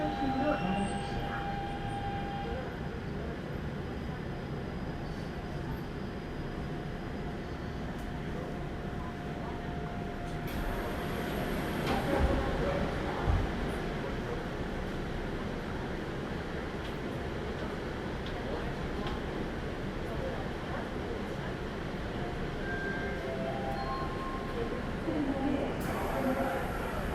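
A Daegu Metro Line 1 train with updated software runs between Sangin and Jungangno, giving a continuous low rumble and hum of wheels and motors inside the carriage, with occasional louder swells and faint clunks.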